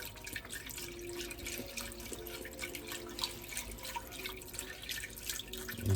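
Liquid trickles steadily down a spoon into a pot of Pittsburgh Italian wedding soup, a soft continuous pouring and splashing close by and fairly quiet.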